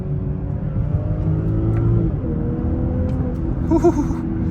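A 2023 BMW X5 40i accelerates, heard from inside as a steady, loud low engine and road drone that shifts slightly in pitch partway through, with no talking.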